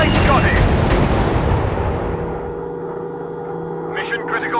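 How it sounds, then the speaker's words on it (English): Heavy bombs burst with a thick, rumbling roar in Warplanes: WW2 Dogfight, a loud explosion that fades into a lingering low drone as a voice speaks near the end. "dropping bombs!"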